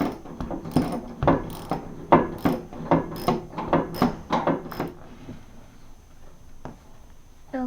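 A clamp is tightened on a boat keel during blister repair, producing a quick series of ratcheting clicks and creaks in an uneven rhythm that fade to quiet, heard close and alone.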